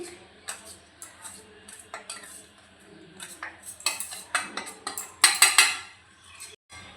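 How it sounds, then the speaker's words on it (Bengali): Red chili powder is poured onto a plate, with light scraping and tapping of a utensil against the dish and a sharper flurry of clinks near the end. The sounds are close and fairly quiet, with no talking. "এবার লঙ্কা গুঁড়োকে আমি প্লেটের মধ্যে ঢেলে নিচ্ছি।"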